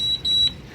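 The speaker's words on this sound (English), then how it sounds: "dangerous target alarm" A boat's AIS dangerous target alarm gives two short, high electronic beeps in quick succession, close and clear with no talk.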